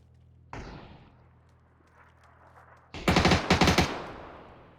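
An MG3 machine gun fires in the video game PUBG: a single loud shot rings out first, then a close, rapid burst of several shots in quick succession that tails off.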